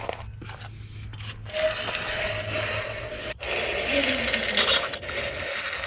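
An aftermarket Badlands winch spools out synthetic rope, giving a steady mechanical whir with ratcheting gear clicks and scraping that grows louder partway through, with no voices.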